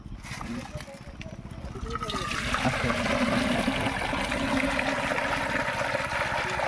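Dirty water from fish spawn packets pours into a pond, a soft trickle that swells into a steady, close splashing gush, with people talking faintly over it.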